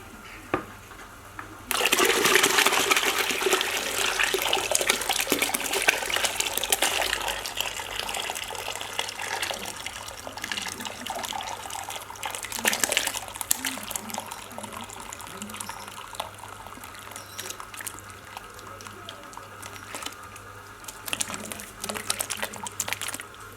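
Hot water is dumped in a long, steady gushing pour into a container while home brewing beer, splashing and rushing close by for about twenty seconds before gradually trailing off.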